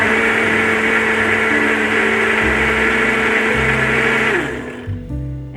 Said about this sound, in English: I just put this on the blender